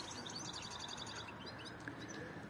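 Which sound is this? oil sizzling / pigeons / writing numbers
pigeons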